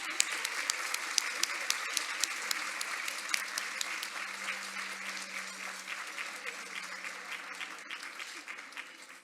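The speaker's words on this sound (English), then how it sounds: "Let's give them a round of applause" An audience at a women-in-trades event applauds at length, a dense, steady clapping from a large crowd with a few sharper individual claps standing out, slowly tapering toward the end.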